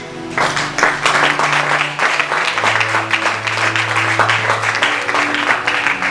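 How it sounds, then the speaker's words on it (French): A church congregation breaks into sustained applause, dense steady clapping from many hands filling the room for several seconds, with a low hum of voices beneath. "On applaudit."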